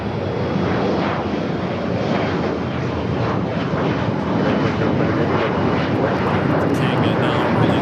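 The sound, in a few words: Airbus A380 jet departing LAX runway 24 left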